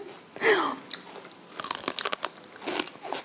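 Crunchy chewing of raw celery, with a loud bite near the start followed by a run of crisp, moist crunches up close, getting busier toward the end; no talking.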